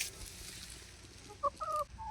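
Chickens in a backyard coop give a couple of short clucking calls near the end over a quiet, faint background, with no talking.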